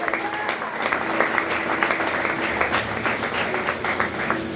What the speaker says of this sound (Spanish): Denles aplauso al Rey en esta mañana